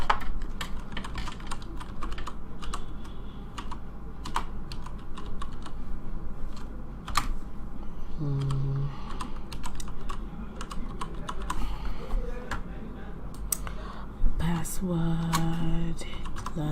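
Someone types a password on a computer keyboard to log in, with a steady patter of close key clicks running throughout and a few brief tones toward the end.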